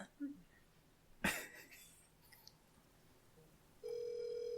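A telephone call rings out while waiting for someone to answer, a steady electronic ring tone starting near the end after a sharp knock and brief breathing sounds.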